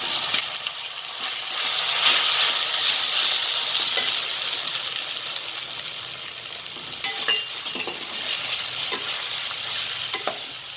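Boiled fenugreek and bottle gourd muthiya dropped into hot oil tempered with hing, hissing and sizzling steadily as they are stirred, with occasional clicks of a spoon against the pan.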